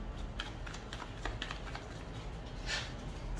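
Tarot cards being shuffled by hand, giving soft, quick papery flicks and riffles that come in light bursts, faint and close, with no talking.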